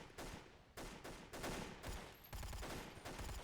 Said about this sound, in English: this is one quiet SMG